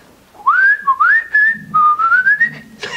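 A person whistles an imitation of chaffinch song, producing a series of rising pure-tone slides in quick succession, close and loud, ending in a brief burst of noise.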